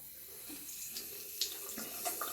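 Tap water runs steadily into a sink while shaving soap lather is rinsed off a razor blade, with faint splashes and a few louder spatters.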